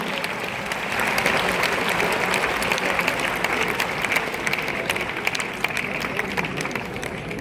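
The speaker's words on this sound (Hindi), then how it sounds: "एक बार जोरदार तालियां बजनी चाहिए" A large audience at a Jodhpur foundation day awards ceremony bursts into loud, sustained applause, a dense wash of clapping that swells within the first second and holds steady with a slight fade near the end.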